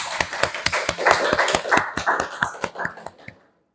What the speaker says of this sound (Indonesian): Kita aplaus untuk penampilan mereka.